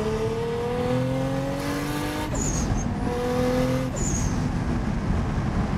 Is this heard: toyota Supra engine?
yes